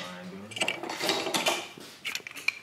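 A wrench works the wheel loose on a Milwaukee 4-1/2 inch small angle grinder, giving close metallic rattles, scrapes and sharp ratchety clicks in short bursts.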